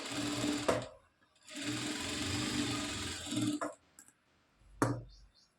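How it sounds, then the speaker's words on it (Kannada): A sewing machine stitching a blouse, running in several fast bursts separated by short pauses, with a few light clicks and handling knocks between runs. "ಸ್ವಲ್ಪ ಬಿಟ್ಟು ನಾನು ಇಲ್ಲಿ ಸ್ಟಿಚಿಂಗ್ ಅನ್ನೋದನ್ನ ಮಾಡ್ಕೋತಿದ್ದೀನಿ"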